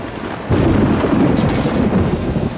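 A thunderstorm's thunder breaks in with a sudden deep rumble after a half-second lull, then rolls on loud and sustained with a brief crackling burst partway through.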